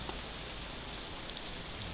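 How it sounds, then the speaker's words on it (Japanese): Steady rain falls outdoors as a dense, even hiss with no breaks, filling the whole stretch at a constant level with no voices. "雨やまねえな。"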